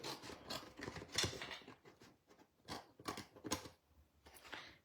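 Scissors cutting paper for a 3D snowman craft, close irregular snips and rustling in quick bursts, fairly quiet, with no talk.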